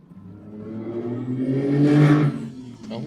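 A loud car drives by outside, its engine swelling to a peak and then fading over a few seconds, heard alone without talking.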